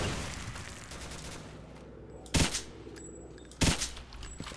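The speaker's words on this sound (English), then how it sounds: "Where the hell are you guys shooting?" Two loud bursts of rapid automatic gunfire ring out in the video game S.T.A.L.K.E.R. Misery, each volley about half a second long and separated by a second of quieter ambient noise.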